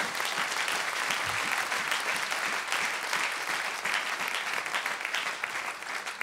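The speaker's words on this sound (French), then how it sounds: "On peut donner une bonne main d'acclamation à Dieu." Congregation at a church service gives God a sustained round of applause, dense steady clapping from many hands filling the room, with faint crowd noise underneath.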